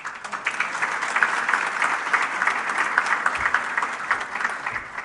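An audience at a business luncheon debate applauding, a lively, steady patter of many hands clapping that swells and stays loud throughout, with no talking over it.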